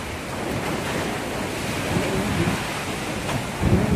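Strong typhoon wind from Typhoon Tino in Iloilo City, Philippines, lashing palm trees, a loud continuous roar with gusty buffeting against the microphone and no voices.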